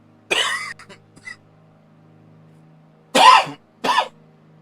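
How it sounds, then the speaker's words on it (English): Harsh coughs from a man at a home flight-simulator setup: one burst, a couple of faint throat noises, then a pause and two more coughs close to the microphone. "Excuse me, I have to cough."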